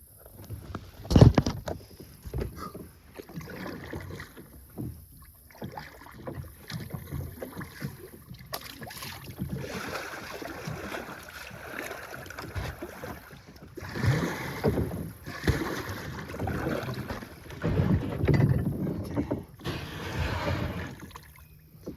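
A kayak and canoe are worked through a river's strong current on the Rum River in Minnesota with a single paddle, giving splashing strokes and water rush with wind buffeting the microphone, swelling louder in the later half.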